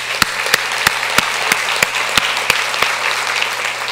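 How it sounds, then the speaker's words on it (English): An audience claps steadily after a series of speeches and presentations, a dense wash of applause with a few sharper individual claps standing out at regular intervals, with no voices on top. "Can we get one more round of applause?"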